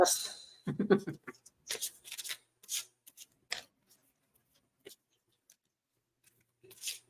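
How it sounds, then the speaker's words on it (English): A deck of cards being shuffled close by, several quick riffling bursts and soft rubs spaced across the clip, with brief gaps of quiet between them. "Let me shuffle."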